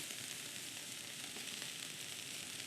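Onion and garlic sizzle and fry in a pan for a Portuguese shrimp açorda, a steady, close crackling hiss with no talking.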